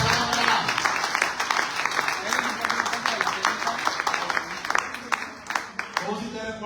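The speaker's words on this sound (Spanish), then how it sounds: "¿Cuánto le da un aplauso al Señor esta tarde?" Congregation applauding during a Sunday church service, a mix of many hands clapping with individual sharp claps standing out, while voices cheer and talk over it.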